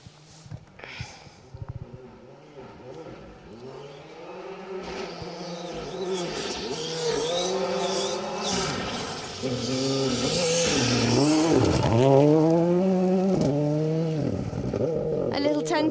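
Ford Fiesta R5 rally car on a forest stage of the Cambrian Rally, engine note rising and falling through gear changes as it approaches and passes, growing louder toward the end, with a commentator talking over it.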